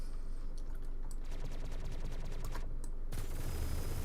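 Dense bursts of rapid gunfire in the video game Star Citizen crackle continuously, shots overlapping with a constant, loud backdrop of combat noise.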